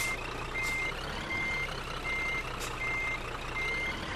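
A truck backing up in a driving video game sounds a steady series of high reversing beeps, evenly spaced about once a second, over a constant low engine drone with no talk.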